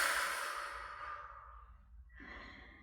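A long, deep exhale during a relaxation breathing exercise, a breathy rush of air fading out gradually, followed by a softer breath sound near the end.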